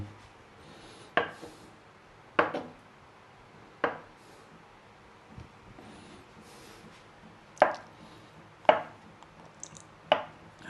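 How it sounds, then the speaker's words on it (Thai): A knife slicing an ingredient into round slices on a cutting board for a Thai clear soup with napa cabbage, egg tofu and minced pork, heard as about seven separate sharp chops spaced roughly a second or more apart, close and fairly quiet. "หั่นแบบปกติเลย หั่นเป็นแว่นกลม"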